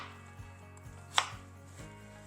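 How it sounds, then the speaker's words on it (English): A knife slices potatoes lengthwise into fry-like strips on a cutting board, making soft, evenly spaced chops about every half second, with one sharper knock in the middle, close and quiet with no talk. "Then we're going to cut them on the long ways to make almost like French fries."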